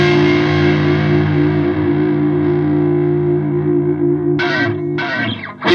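A Fender Stratocaster electric guitar with single-coil pickups and an ash body rings out through effects, a loud, sustained distorted chord shimmering with chorus and echo, then a few sharp, choppy bursts near the end.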